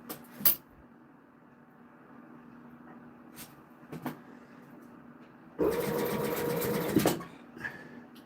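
Sewing machine stitching a leather watch strap, a loud mechanical whir of about a second and a half after a few faint clicks and knocks, close and otherwise quiet.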